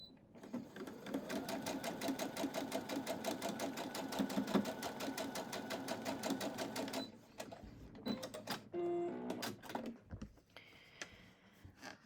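A sewing machine stitches a quarter-inch quilt seam for a snail's trail block, running steadily for about seven seconds, then stopping and giving a few short bursts and clicks as the fabric is handled.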